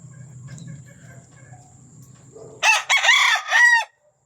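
A seven-month-old rooster crows once, loud and close, in a backyard farm on a rainy morning, the call breaking into several rising and falling segments after a stretch of quiet low rumbling.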